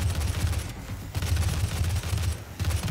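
Dense, rapid booms and thuds of weapons fire in the video game Doom, a busy continuous barrage of rocket explosions with no voices.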